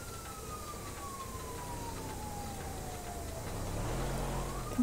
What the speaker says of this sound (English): I'm pretty sure I can hear a siren.